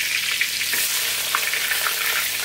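One stalk of lemongrass, a shallot and a pandan leaf sautéing in hot oil for mackerel sambal, giving a bright, steady frying hiss with occasional light stirring clicks, close and loud, no speech.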